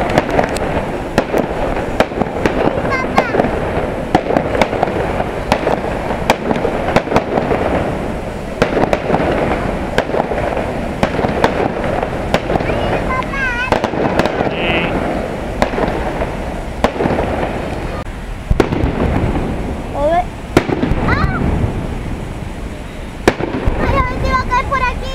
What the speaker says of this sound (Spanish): Cuando empiecen los fuegos artificiales, empiezo a grabar